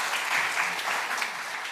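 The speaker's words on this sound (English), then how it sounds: "can you all give them a round of applause?" Conference audience applause, a brief, steady burst of many people clapping in a hall, fairly loud and even throughout.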